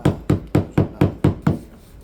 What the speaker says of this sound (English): I've knocked all the loose bits off now.